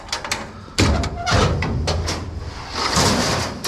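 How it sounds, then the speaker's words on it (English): Doors opened and banged at a job site while gear is unloaded, with a heavy thump near the start followed by sliding, rattling clatter and further knocks, close and fairly loud. "We can just open up the doors, Jaron."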